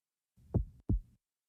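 A single heartbeat: two muffled low thumps close together, the classic lub-dub, up close in otherwise near silence.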